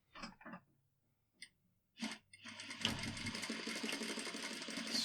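A sewing machine stitches a shirt placket, starting after a few soft handling clicks and taps, then running in a steady, close mechanical whir with rapid ticking needle strokes.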